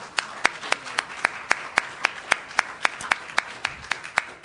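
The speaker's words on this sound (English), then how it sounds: "Let's give him a round of applause." Single sharp claps ring out in a steady, evenly spaced rhythm, crisp and close over a faint room murmur, as an audience of university alumni is called on to applaud.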